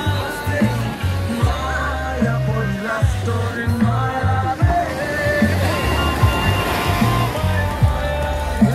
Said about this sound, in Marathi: बघा. लाटा कशा